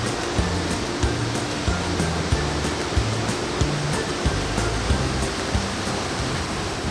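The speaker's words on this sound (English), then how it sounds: "behind me is a beautiful and splendid waterfall known as the Rainier Waterfall" Rainier Waterfall in Nongkhnum, Meghalaya roars as a loud, constant broadband rush of falling water, steady throughout with faint regular clicks over the top.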